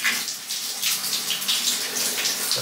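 Tap water runs in a steady close hiss and splash, continuous throughout with no speech.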